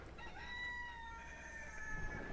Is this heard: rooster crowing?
yes